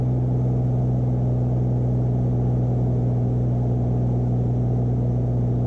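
Beechcraft Bonanza piston engine at cruise power, prop pulled back to about 2,400 RPM, heard from inside the cabin as a loud, unbroken low drone with a strong steady tonal throb and no talking.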